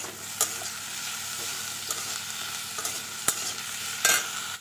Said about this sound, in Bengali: এখন আমি দিচ্ছি লবণ আর ওই একই সঙ্গে দিয়ে দেব একটু হলুদ গুঁড়ো দিয়ে ভালো করে নেড়ে দেবো